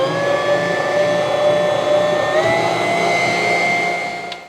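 An electric stand mixer blends flour into foamy yeast for Mennonite hotdog bun dough, a loud steady motor whine that rises slightly in pitch midway and then fades near the end.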